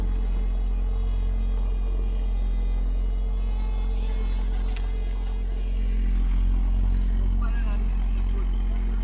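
A Willys MB Jeep engine strains to pull a log with a tree saver strap, giving a steady, loud, deep rumble that swells slightly toward the end.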